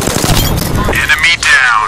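Rapid automatic gunfire from an Apex Legends firefight, loud and close, with dense overlapping bursts and a sharp ringing tail toward the end.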